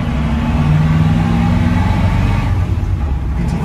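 A 1958 Austin A35 pulls away in second gear, its small engine droning steadily and loud from inside the cabin, pitch climbing briefly before easing off toward the end.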